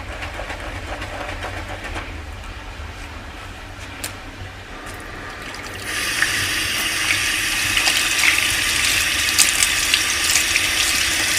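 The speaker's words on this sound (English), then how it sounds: "Washing brushes can be really hectic," Makeup brushes are washed on a brush cleaning mat under a running tap. Steady water hiss grows louder and brighter partway through as the flow increases, with faint scrubbing beneath it.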